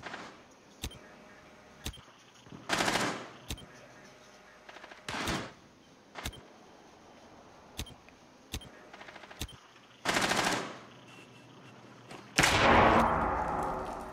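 Light machine gun fire from the video game Rainbow Six Siege comes in several loud, dense bursts between isolated sharp single shots, with the longest and heaviest burst at the end.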